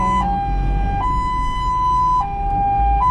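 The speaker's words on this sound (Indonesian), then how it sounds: "sirine penjemputan pasien" An ambulance siren switched on for a patient pickup, loud and close, alternating between two steady tones in a slow hi-lo pattern over engine rumble.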